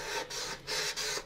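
Sandpaper rubs across a plastic model kit surface to rough it up before painting, three or four close rasping back-and-forth strokes in quick rhythm.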